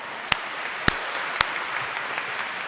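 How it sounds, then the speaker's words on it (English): A commencement audience applauding, a broad steady patter of clapping from many hands, with a few sharp, louder claps standing out nearby. "we can clap for that"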